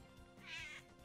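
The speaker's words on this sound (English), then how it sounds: "I don't know if that is angry meow or good" A house cat being scratched on its rump gives a single faint, drawn-out meow under a low background hum.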